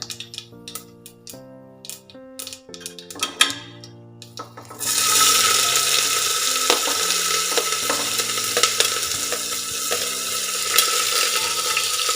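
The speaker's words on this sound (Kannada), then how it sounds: "ಈರುಳ್ಳಿ 1 ನಿಮಿಷಗಳ ಕಾಲ ಫ್ರೈ ಮಾಡ್ಕೊಳ್ಳೋಣ." Chopped onions hit hot oil in a pan during a Dum Vangibath recipe, bursting into a loud, steady sizzle after a few seconds of quieter kitchen sounds and continuing strongly to the end.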